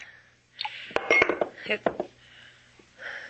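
A water pitcher and glass clink together in a radio drama scene, several sharp bright ringing taps close together, with quiet room tone and a faint voice nearby.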